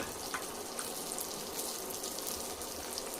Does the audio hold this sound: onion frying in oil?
yes